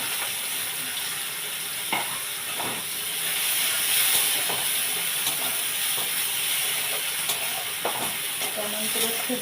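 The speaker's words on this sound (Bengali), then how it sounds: "পেঁয়াজ দিলাম।" Onions sizzle and hiss in hot oil with chillies while being stirred, a steady frying sizzle with occasional clicks of a utensil, close and continuous for a rural-style curry of bottle gourd stems, potato and tangra fish.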